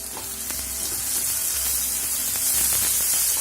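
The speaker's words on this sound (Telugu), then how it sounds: "కొద్దిగా సిమ్లో పెట్టి వేగనివ్వాలి." Carrot, potato and beans frying over low heat in a pan for paneer korma, a steady close sizzle with soft stirring scrapes throughout, no talk.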